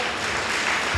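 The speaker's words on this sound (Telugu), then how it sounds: "చప్పట్లు కొట్టండి అందరూ ఒకసారి" A church congregation bursts into a brief, dense round of clapping during a pastor's sermon, many hands at once, loud and close.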